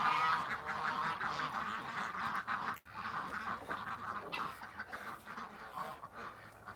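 Ducks quack in a dense, continuous chatter outdoors on a summer day, close and fairly loud, with a brief break midway before the quacking resumes.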